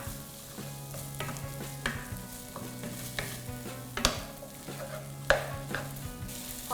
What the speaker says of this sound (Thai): ทีนี้ก็ผัดให้เข้ากันเลยค่ะ